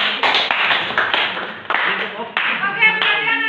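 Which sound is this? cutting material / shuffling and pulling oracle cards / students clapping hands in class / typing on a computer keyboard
students clapping hands in class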